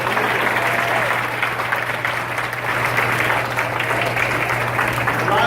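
Steady, loud applause from an audience at a Republican Jewish Coalition campaign speech by John Cox for California governor, dense continuous clapping with no speech over it.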